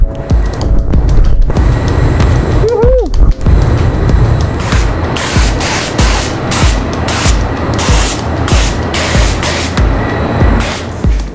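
A paint spray gun applies plastic primer in a loud, continuous hiss close by, broken by short pauses and trigger bursts, with no talking.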